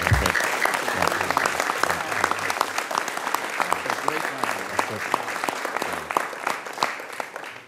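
Sustained audience applause at a Senate event with veterans groups, dense and loud clapping continuing for several seconds before fading out, with some voices in the crowd.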